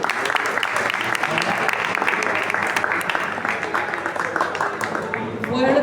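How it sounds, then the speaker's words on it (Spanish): Audience applause for three narrators at a spooky-themed reading event, a sustained, dense burst of clapping from a room of people that holds steady and loud throughout. "Fuerte el aplauso para los tres narradores."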